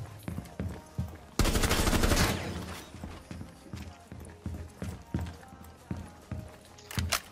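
Rainbow Six Siege gameplay with a sustained burst of automatic gunfire lasting about a second, followed by scattered thuds and clicks and a short final volley near the end.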